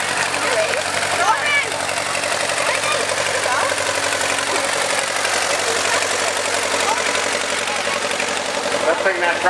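An antique tractor engine chugs steadily at a rhythmic idle in a Fourth of July parade, close by, with voices talking over it.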